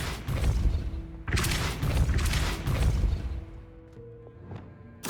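Depulso, a force-push spell, is cast in a Hogwarts video game inside the Room of Requirement, heavy booming bursts and crashes in a few loud hits with rumbling decay, close, no talk.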